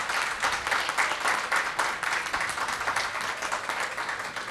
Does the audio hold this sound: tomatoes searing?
no